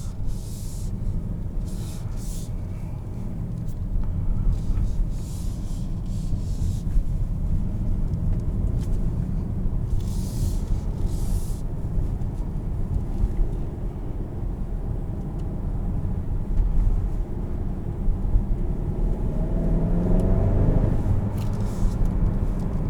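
A 2021 Kia Sorento SX Prestige X-Line accelerating at part throttle, a steady engine drone and road rumble heard from inside the cabin, swelling gradually with a faint rising tone near the end.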